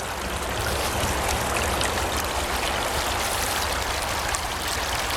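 A shallow stream of running water crossed on foot near the Rockley Engine House in Barnsley, a steady, broad rushing and trickling close by that carries on evenly without a break and with no talk over it.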